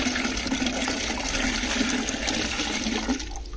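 Water draining out of a compost extract bag through tools with enlarged holes, a steady loud rushing and splashing flow that runs almost without pause before easing off at the end.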